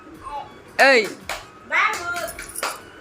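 Small child claps hands at home during a family Diwali celebration, a few sharp claps scattered among the child's chatter and other voices.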